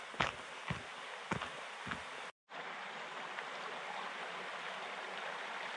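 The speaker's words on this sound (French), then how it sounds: "Et voici enfin cette rivière du Vialet dont on parle depuis un petit moment." River Vialet in the Espinouse massif flowing steadily nearby, a continuous broad rushing wash with a few brief footstep-like thumps early on and a momentary cut partway through.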